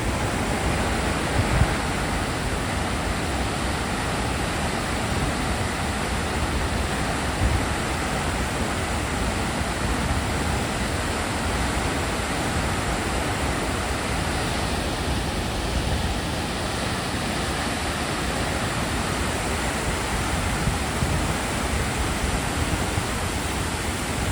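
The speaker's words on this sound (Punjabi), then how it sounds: "ਬਾਰਿਸ਼ ਫੇ ਹੋਣ ਲੱਗ ਗਈ ਆ ਤੇ ਬਹੁਤ ਫਾਸਟ" Heavy rain falls again at Harike dam on the Sutlej river, making a loud, steady, unbroken hiss that fills the whole stretch with no voices heard.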